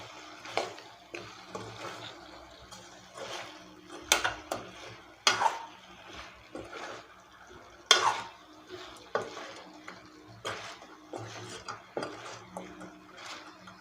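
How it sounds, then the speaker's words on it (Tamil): Country chicken fry being stirred in a frying pan, with irregular scraping and clinking of a spoon against the pan over a faint sizzle, moderately close and fairly quiet. "லைட்டாக பரட்டி விட்டுக்கோங்க."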